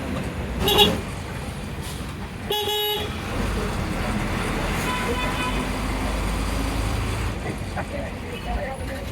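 A KSRTC bus slowly turns into Taliparamba bus stand, engine rumbling under traffic noise with short horn toots near the start; a person talks over it.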